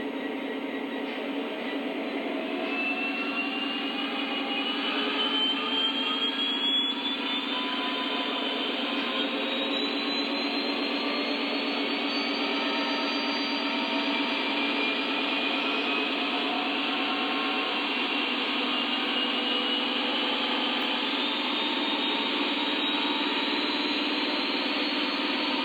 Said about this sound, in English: Here is the diesel revs up.